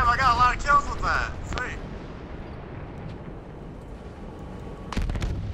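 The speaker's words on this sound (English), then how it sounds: "Guys, I think we're taking artillery fire." Battlefield 1 artillery shell bursts: deep booming impacts rolling under shouted talk at the start, then a fading rumble and another sharp blast near the end.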